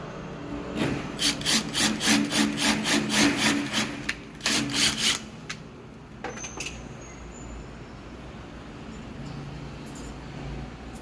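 Metal screws are driven in to fit an alpha lock, producing a quick run of rhythmic grinding bursts up close, then a pause, a few more bursts and quieter handling noise.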